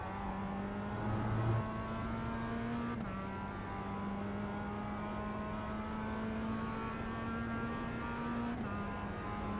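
Race car engines from the iRacing game, Mazda MX-5 and Toyota GR86 racing, a continuous loud droning engine tone holding steady and shifting pitch briefly, close and alone.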